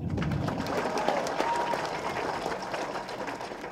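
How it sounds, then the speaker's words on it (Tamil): Audience applause at a film event for the movie Peranbu, a steady round of crowd clapping at moderate level lasting a few seconds. "கைத்தட்டுங்க."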